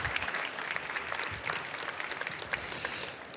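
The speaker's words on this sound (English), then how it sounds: "Big applause, ladies and gentlemen." Steady audience applause at a trade fair start-up pitch event, a dense continuous wash of many hands clapping at moderate level throughout.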